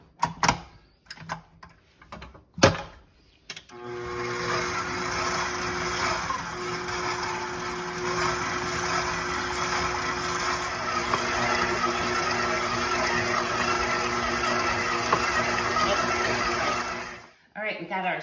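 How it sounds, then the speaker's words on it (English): A KitchenAid stand mixer mixing sourdough bread dough runs as a steady, loud motor whir with a rhythmic hum, starting after a few seconds of handling clatter and cutting off near the end. "I have a KitchenAid. So I'm going to mix it for about 6 minutes"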